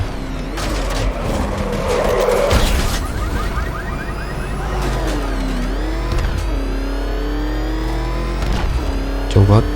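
A car drives in Batman: Arkham Knight, its engine loudly revving and accelerating with tire skids and changing pitch, while a person talks over it.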